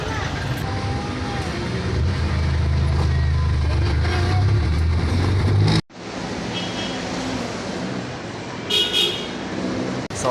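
Riding a jeepney in Philippine traffic: a loud, close engine rumble with horn toots and road noise under people talking, cutting abruptly to quieter street sound partway through.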